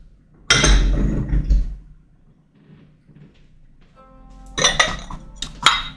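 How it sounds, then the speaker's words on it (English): Ceramic ramekin bowls clink and clatter while being handled in a home kitchen, one loud burst of knocking at the start, a quieter pause, then another cluster of sharp ringing clinks near the end. "So we got some more ramekin bowls."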